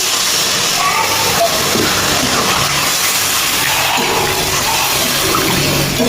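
Water pours into a pot of live-fish curry with winter vegetables, a loud, steady hiss and rush that continues unbroken throughout.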